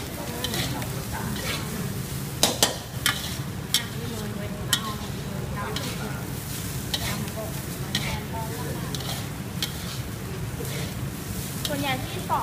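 Pork stir-fried with shrimp paste rice sizzles steadily in a pan, with spatula scrapes and occasional sharp clicks, while someone talks over the cooking throughout.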